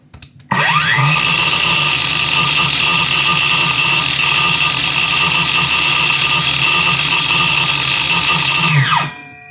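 A Heimerdinger LB293 cordless handheld circular saw spins up sharply, holds a loud steady high whine with no load for about nine seconds, then winds down.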